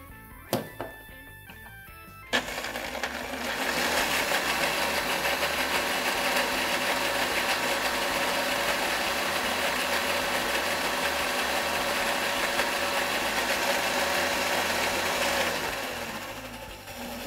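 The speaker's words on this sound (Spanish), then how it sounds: "Y ahora, sin dejar de licuar, solo le bajé la velocidad" A blender whirs pesto sauce for fettuccine, starting with a few clicks before the motor kicks in and runs loud and steady, then winds down near the end.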